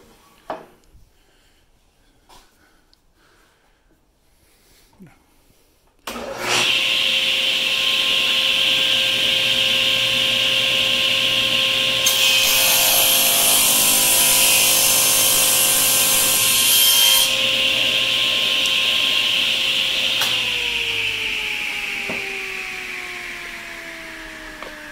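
Ridgid TS3650/TS3660 table saw ripping a 1-inch strip from a board: quiet handling at first, then the motor kicks in loud and steady, the blade's pitch shifting as the wood feeds through before spinning down.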